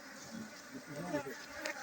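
Honeybees drone around an opened hive during queen rearing in Côte d'Ivoire, a faint, continuous buzzing close by with slight swells in intensity.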